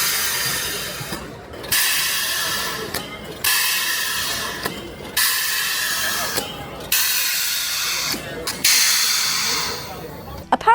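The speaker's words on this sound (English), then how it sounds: "This is the Class 507's camshaft simulator." Bursts of loud hissing from a Class 507 train camshaft simulator repeat in a regular cycle, each lasting a second or two and ending abruptly, with short quiet gaps and faint mechanical clicks.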